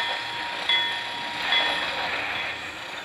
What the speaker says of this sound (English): this CFI train is pretty short. It only has 6 train cars